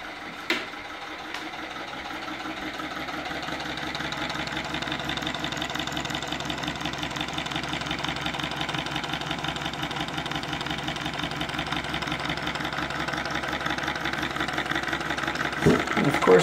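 A small steam engine drives a little generator that powers a steam-driven Christmas tree, giving off a steady, continuous mechanical chugging with a rapid rhythmic beat at an even level throughout.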